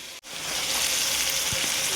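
Garam masala spices frying in a hot pan, a loud continuous sizzle after a brief dip at the start, close to the pan with no voices.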